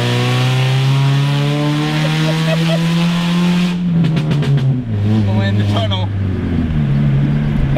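A car with a stock exhaust and ceramic-painted headers cruises in fifth gear through a tunnel, its steady engine drone loud and echoing, shifting pitch partway through with brief tire or road noise; someone talks over it.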